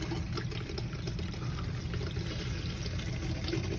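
Toilet in an AOR 2020 Funfinder 28QD travel trailer flushing during winterizing, a steady close rush of pouring water that runs without a break and without talk.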